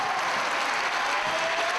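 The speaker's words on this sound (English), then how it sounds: "Draws a round of applause from the fans here in Chicago" Fans at a Chicago wrestling match applaud in a steady, dense wash of clapping that holds evenly throughout, with no voices over it.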